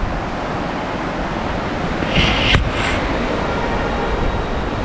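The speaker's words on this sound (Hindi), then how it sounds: "ये आ रही है आपकी अलकनंदा नदी" Alaknanda river at Karnaprayag in Uttarakhand, a broad, steady rush of flowing water with constant noise, loud and unbroken, with a brief wind buffet midway.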